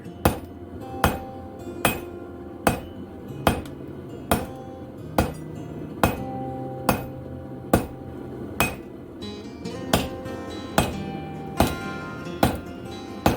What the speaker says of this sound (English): I'm going to use the peen of my hammer instead of the face